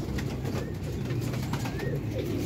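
Pigeons in a rooftop loft murmur in soft, low cooing close by, a continuous burbling texture with faint higher chirps over it and no speech.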